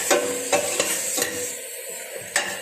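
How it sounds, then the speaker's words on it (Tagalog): A spoon stirs mulukhiya cooking in a pot, giving several sharp scraping strokes at irregular intervals over a low sizzle, close and alone without talk. "Haluhin lang natin yan,"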